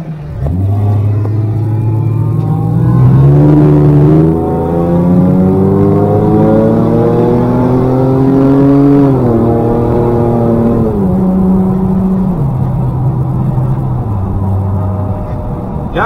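A Ford Sport Trac pickup truck engine revs up through several gears, pitch climbing and dropping between shifts, loud and close from inside the vehicle.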